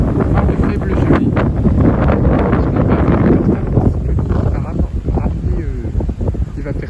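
A west wind blows outdoors, buffeting the microphone with loud, rough gusts that rumble continuously and ease slightly toward the end.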